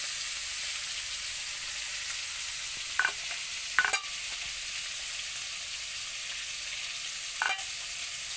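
Food frying in a pan until reddish, giving a steady broad sizzle throughout, with a few brief scraping stirs partway through and no talking.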